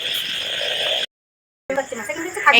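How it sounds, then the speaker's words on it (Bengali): Frogs croak near a pond on a rainy day, a close, buzzing chorus that cuts out abruptly to silence and then returns. "ব্যাঙ এখন অন্যরকম আওয়াজ করছে"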